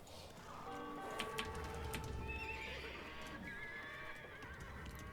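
Cavalry horses in the real-time strategy game Age of Empires II let out whinnies and neighs with clip-clopping hooves, fairly faint amid scattered game sound effects.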